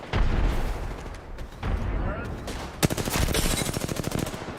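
Rapid gunfire in an Apex Legends firefight, with loud close bursts and a dense automatic volley near the end, while players talk over the shooting.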